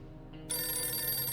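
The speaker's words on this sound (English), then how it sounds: "We're not answering the phone" Telephone ringing in the survival video game 60 Seconds! Reatomized, a bright sustained electronic ring that starts suddenly and carries on loud and alone.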